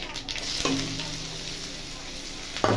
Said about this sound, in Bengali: কুচনো পেঁয়াজ দিয়ে ভালো করে পেঁয়াজটাকে ভেজে নেবো।